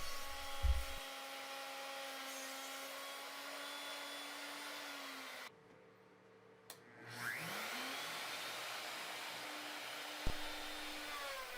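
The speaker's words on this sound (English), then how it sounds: "I'm routing in the channel that will house the scissor mechanism." A router cuts a channel into a workbench leg for a Benchcrafted Glide leg vise on a Roubo bench, giving a steady, close high-pitched whine that drops out briefly partway through, then spins back up and continues.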